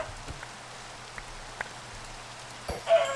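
Rain falls steadily in a Minecraft modpack game world, a soft even patter with scattered sharper drops, ending in a louder thud or splash near the end.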